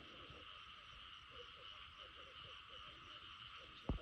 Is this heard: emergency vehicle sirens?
no